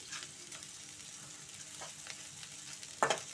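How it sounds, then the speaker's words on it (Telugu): Okra fries in a pan, a faint steady sizzle with light stirring scrapes and one louder clatter near the end of the short stretch. "ఇంకా కొంచెం ఫ్రై అవ్వాలండి"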